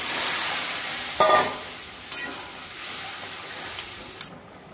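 Pieces of bottle gourd being added to poppy seed masala frying in a pan, a steady nearby sizzle broken by a few soft knocks and scrapes of stirring, easing off at the end.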